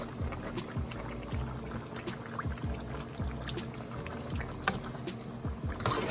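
Thick gravy pours and glugs in a steady wet stream over turkey wings, with soft splashing and faint kitchen clatter in the background.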